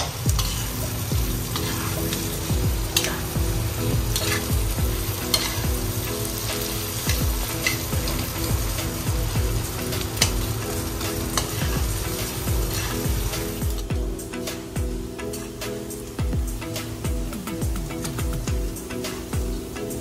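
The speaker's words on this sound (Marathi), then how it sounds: "गॅस मोठा ठेवून तुम्हाला कांदा मिरची पूर्ण एकजीव करून घ्यायचंय त्या बटरमध्ये पूर्ण." Onion, chilli, capsicum and corn kernels fry in butter over a high flame, giving a continuous sizzle with steady stirring and scraping throughout, fairly close and loud, with no talking.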